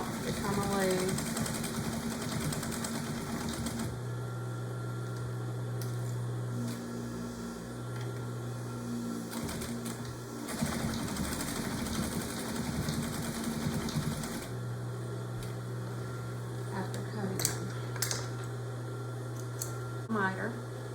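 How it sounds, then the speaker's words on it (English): A sewing machine stitches custom drapes for an arched window, whirring steadily with back-tack reversals and short pauses that shift its pitch, while a person talks over it. "And I do back tack a lot because I do not want these strings or anything else to come loose."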